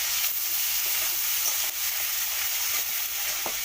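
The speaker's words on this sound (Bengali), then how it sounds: "আলুটা ভেজে নিচ্ছ তুমি?" Potatoes fry in a pan during home picnic cooking, giving a steady, close, broadband sizzle with faint stirring clicks throughout and no talk.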